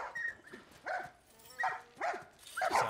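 Dogs barking in The Last of Us, heard from inside a building where dog fights are held: a series of five or six muffled, mid-distance barks and yips in an uneven rhythm, with no talk.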